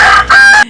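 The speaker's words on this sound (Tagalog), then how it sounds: "Ingay na manok" A rooster crows once, loud and close, a single harsh drawn-out call that cuts off abruptly.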